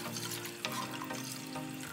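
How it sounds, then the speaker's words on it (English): Water poured from a container into a pan for Korean beef and vegetable porridge, a steady close splashing stream that runs for about two seconds. "Add 7 cups of water into the pan."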